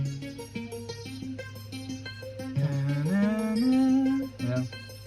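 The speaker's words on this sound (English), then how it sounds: "I decided to add an arpeggiator" A synth arpeggiator plays a rhythmic sequence of repeating short notes, steady and upfront, with a sustained rising tone swelling in the middle.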